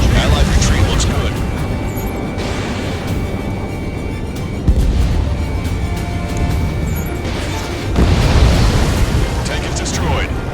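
A tank is blown up in Ace Combat 7, heavy booming blasts and rumbling debris in a war-zone setting, loud bursts recurring every few seconds amid continuous battle noise with voices talking over the radio.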